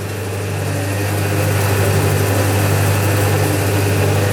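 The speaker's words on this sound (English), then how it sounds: "I've got the cut-off saw" A continuous loud, harsh whir of a cut-off saw grinding through 1.5 inch steel blanks, with a steady low motor hum beneath a bright, gritty hiss.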